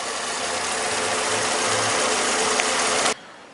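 VW Gol G5 2010 engine idling with the hood open, a steady broadband hum with a faint low pulsing throb, lasting about three seconds before cutting off abruptly.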